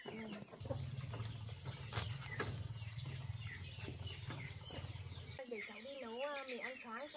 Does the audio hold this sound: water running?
no